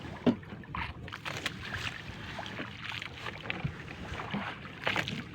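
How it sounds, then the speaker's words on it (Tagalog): A very large, long ship passing close alongside: wind buffets the microphone over a low rumbling churn of water, with scattered splashes and knocks coming and going. "Barko na naman guys, dumaan na naman dito sa tabi natin."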